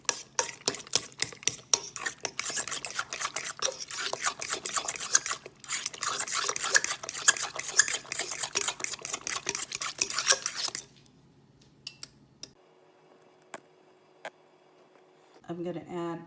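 Sweet potato pie filling beaten with a utensil against a bowl, a fast dense clatter of rapid strokes for about eleven seconds, then near quiet with a few soft knocks and faint talk at the end.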